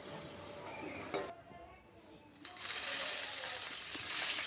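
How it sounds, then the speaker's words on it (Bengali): Onions fry in white cooking oil in a frying pan for birista, a steady hiss that drops away briefly before returning louder and fuller. "পেঁয়াজগুলোকে ভেজে বেরেস্তা করে নিচ্ছি"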